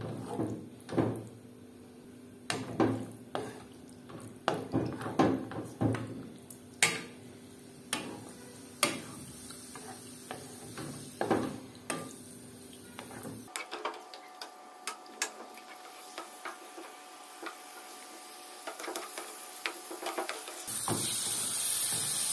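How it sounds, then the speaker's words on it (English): A spoon scrapes and clicks against a pan as turkey liver is stirred on high heat, with a steady frying sizzle underneath; irregular taps repeat throughout, at close range and moderately loud. "on high heat, I add the turkey liver and I begin stirring"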